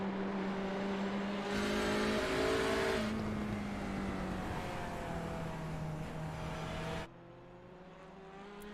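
Race car engines at Silverstone in a sim racing game drone and whine as cars pass, pitch sliding through gear changes, with a louder pass early on before the sound drops to a quieter distant hum.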